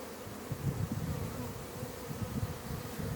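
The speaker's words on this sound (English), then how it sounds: "Field bees just aim for that white dot, and they're right on the landing board." Field bees fly in and out of a swarm trap, landing on its board: a steady, close buzzing hum with a low drone throughout and no voices.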